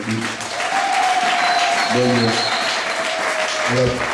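A church congregation claps for Jesus Christ during a worship service, a loud sustained round of applause with a preacher's voice and music-like tones sounding over it.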